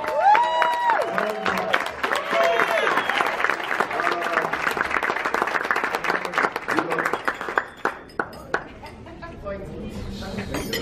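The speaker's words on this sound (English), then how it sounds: "Round of applause!" Wedding guests clap and cheer for the couple, a loud crowd burst with whoops, voices and a clink of glassware, thinning into scattered individual claps toward the end.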